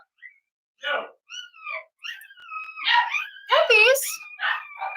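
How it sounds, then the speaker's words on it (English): Puppies bark and yip in short, high-pitched bursts close by, the calls growing louder and more frequent toward the end, with people talking over them. "Puppies."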